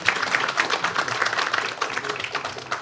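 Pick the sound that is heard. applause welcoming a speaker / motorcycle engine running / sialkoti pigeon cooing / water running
applause welcoming a speaker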